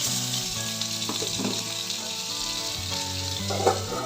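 Chopped tomato fries in a pan while being stirred, with a steady, even sizzle throughout and a few soft scrapes and knocks from the spoon, plus a faint low tonal hum beneath.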